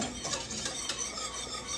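Cabbage boiling in a pot on the stove before canning, a steady close bubbling and rumbling with faint clinks of pot and utensils and no talking.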